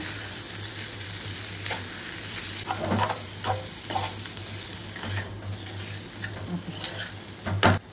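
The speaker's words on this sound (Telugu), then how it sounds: "చికెన్ని మంచిగా కలుపుకోండి." Chicken wings sizzle in a hot pan while being stirred, a continuous frying hiss with scattered scraping and tapping strokes of the spoon, no talking.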